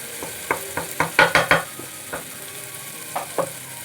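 Spoons stirring biryani, coriander and red chilli powders into a hot frying pan for egg biryani, a run of sharp scraping clatters over a low sizzle, bunched in the middle and then fading to scattered strokes.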